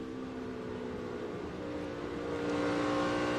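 A NASCAR race car engine at Texas drones loud and steady from an in-car view, rising slightly in pitch and intensity toward the end.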